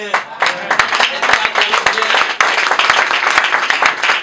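A church congregation claps and applauds in a steady burst of many hands, loud and close, with voices mixed into the applause.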